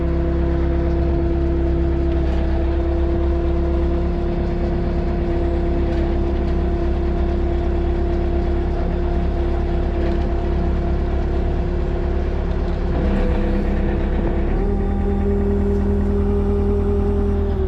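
A Manitou MLT telehandler idles with its diesel engine and angle gearbox clattering, a steady loud mechanical rattle and drone close by, briefly shifting pitch near the end, with no talk.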